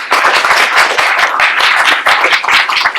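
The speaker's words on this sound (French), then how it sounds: "Et je crois qu'on peut l'applaudir" Conference audience applauding after a talk on the 2020 finance law, a dense, loud burst of many hands clapping steadily for about three seconds, close and sustained with no speech.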